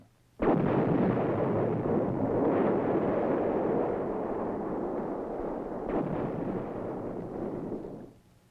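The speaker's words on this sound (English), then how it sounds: "And the new 175mm self-propelled long-range gun." A heavy military artillery piece, a 1962-era 175mm self-propelled long-range gun or howitzer, fires one huge booming blast. The roar then rolls on for several seconds as a loud, sustained rumble before cutting off.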